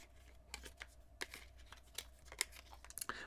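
Cards sliding into the textured card holder on a VRS Design case for a Galaxy S25 Ultra, quiet close scraping and plasticky rustles in several short bursts, with a few faint clicks.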